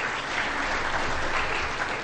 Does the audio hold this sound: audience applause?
yes